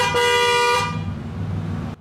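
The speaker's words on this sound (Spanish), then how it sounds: "Quizás te estés preguntando cómo suena la bocina de un Pagani Zonda." A Pagani Zonda's horn honks loud and close in one sustained, bright blast of just under a second, with an engine idling low beneath it until it cuts off.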